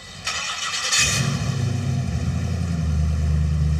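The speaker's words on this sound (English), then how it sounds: "Starts the first time." A freshly rewired custom car engine cranks briefly, then catches and settles into a loud, steady running idle close by.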